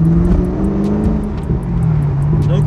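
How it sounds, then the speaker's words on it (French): A manual-gearbox Corvette C5 with an aluminium 7-litre V8 drones steadily from inside the cabin, a deep, loud engine note that swells slightly without sharp revs. "C'est une Corvette C5, boîte méca, avec un V8 litre 7 en alu"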